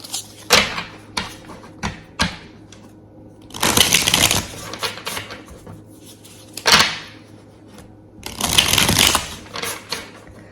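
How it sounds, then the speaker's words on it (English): Tarot cards are shuffled hard and repeatedly, with several brisk riffling bursts separated by quieter taps and handling noises, close up and without talk. "I need to do a good hard shuffle."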